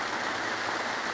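Steady rain pours down outdoors on a garden plot in late July, a dense, even hiss of drops spattering on surfaces close by, with no voices.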